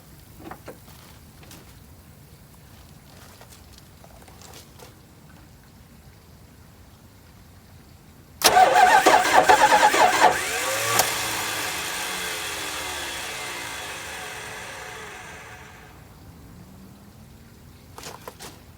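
A 1982 Imperial's fuel-injected engine cranks and catches abruptly after a quiet stretch, running loudly for several seconds before gradually quieting down.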